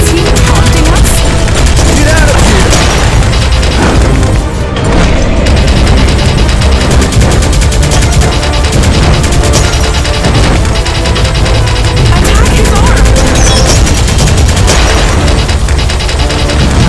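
Relentless gunfire in the Elevator Action Invasion arcade game, loud and nonstop, with bursts, booms and explosions piling over each other across the whole stretch.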